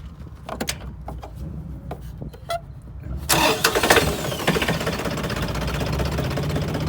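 A tractor engine turns over after a few scattered clicks and knocks, then catches with a loud burst and settles into a steady, rough idle up close.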